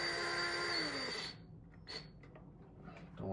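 A power drill whirs steadily, driving a screw into a dimmer switch, then winds down and stops, leaving faint handling clicks and a brief rustle.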